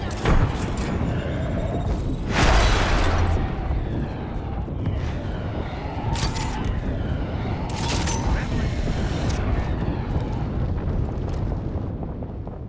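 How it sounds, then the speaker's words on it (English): A grenade detonates in an online shooter video game, with heavy rumbling blasts and thuds set against constant loud battle noise, and a player's voice speaking over it. "Throwing a grenade."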